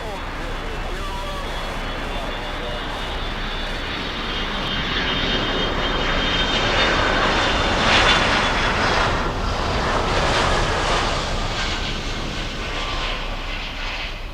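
A Delta jet airliner arriving from Atlanta lands at Miami airport, its broad engine roar building steadily and peaking midway before easing slightly, loud and continuous, with a person talking over it.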